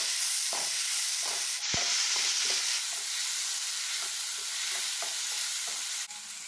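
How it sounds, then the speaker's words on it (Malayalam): Masala for prawn biryani sautés in a pan with a steady close sizzle and hiss. A spoon stirs and scrapes at intervals and knocks once sharply against the pan. No one talks. "ഇനി ഇതെല്ലാം കൂടെ നന്നായിട്ടൊന്ന് വഴറ്റിയെടുക്കാം."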